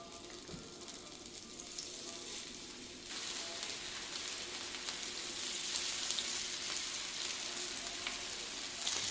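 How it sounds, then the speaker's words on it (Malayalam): Marinated chicken frying in hot oil in a frying pan, giving a continuous hissing sizzle that grows denser partway through and stays steady, quiet and close. "നമുക്ക് മാറിനേറ്റ് ചെയ്ത ചിക്കൻ നമുക്ക് ഫ്രൈ ചെയ്തെടുക്കാം. ഫ്രൈ പാൻ വെച്ചിട്ടുണ്ട്. എണ്ണ ചൂടാവുന്നു. നമുക്ക് ചിക്കൻ ഇട്ട് കൊടുക്കാം."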